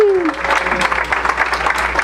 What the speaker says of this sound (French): cet accomplissement, une très, très bonne main d'applaudissements